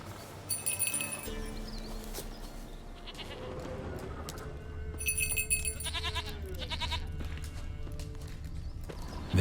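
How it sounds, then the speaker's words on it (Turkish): Goats bleating in the video game The Witcher 3, several repeated bleats near and at moderate distance over a low ambient game background, with some clopping and rustling movement sounds. "Keçinin sesini duyuyorum."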